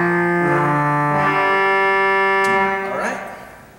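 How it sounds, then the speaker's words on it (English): Pipe organ trumpet reed stop played on the pedal: loud, bright brassy sustained notes stepping through a few pitches in a steady line, then releasing into a brief fading decay, with no talking. "And of course the trumpet and the pedal is going to sound something like."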